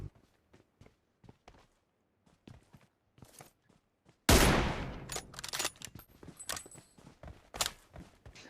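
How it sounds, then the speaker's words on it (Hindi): In a video game, quiet footsteps tap along, then a sudden sharp burst of rapid gunfire erupts, followed by scattered shots and clatter. "उसने गोली चलाई"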